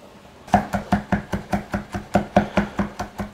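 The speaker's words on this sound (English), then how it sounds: "I'm gonna mince up a couple cloves of garlic." A kitchen knife minces garlic cloves on a cutting board: about a dozen crisp, evenly spaced chops in a steady rhythm, close and clear with no talking.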